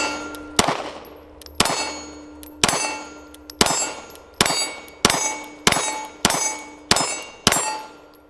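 Springfield Hellcat Pro micro compact pistol fired ten times at a steel target from 10 yards, each loud shot followed by a ringing metallic clang off the plate, in a steady rhythm of roughly one per second.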